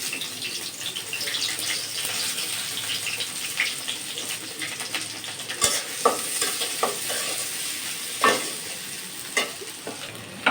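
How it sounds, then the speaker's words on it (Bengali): Chopped onions fry in hot oil in a pan for a pabda fish and eggplant curry, with a steady close sizzle and occasional scraping stirs and clinks of a spoon. "এখন আমি পেঁয়াজ দিয়ে দিলাম।"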